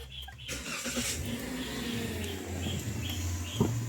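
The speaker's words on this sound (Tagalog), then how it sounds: "Pa-start ko na nga itong makina" A Toyota Rush engine cranks and turns over, then settles into a low steady idle, with a few faint bird chirps in the background.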